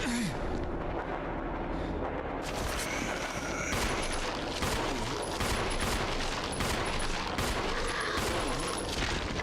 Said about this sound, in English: Don't just stand there, Chris. Shoot him.